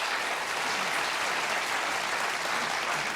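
A large studio audience of about 500 people at a 1985 Johnny Carson show applauding steadily, a loud, continuous wash of many hands clapping with no break.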